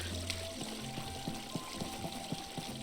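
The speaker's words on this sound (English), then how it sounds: "you kind of walk on water a little bit." Footsteps splash through water in the video game My Time at Portia, soft regular steps over a steady flowing-water background.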